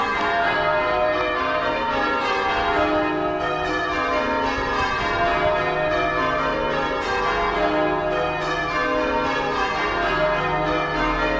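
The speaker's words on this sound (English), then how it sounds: "Those pesky bell pullers." Church bells ring continuously in a dense, overlapping peal, loud and resonant, with strikes layering into a steady wash of tone.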